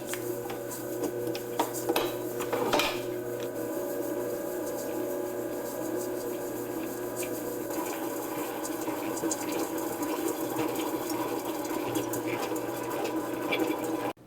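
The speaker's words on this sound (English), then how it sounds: "we're gonna put on the mixer with the paddle attachment, and we're going to cream this together" A stand mixer with its paddle attachment creams butter and sugar for sourdough s'more cookie dough, producing a steady close motor hum with a rhythmic churning tone that runs unbroken for the whole stretch, with a few light clicks near the start and no talking.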